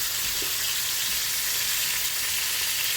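Three pieces of boal fish fry gently on a tawa, giving a steady, even sizzle and soft crackle heard close up with no pauses.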